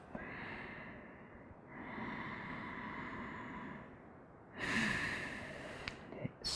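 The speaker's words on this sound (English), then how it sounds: "Steady inhales through the nose and steady exhales out the nose." Slow, steady nasal breathing during seated yoga in easy pose, close and quiet, with two long drawn breaths followed by a sharper, louder exhale through the nose.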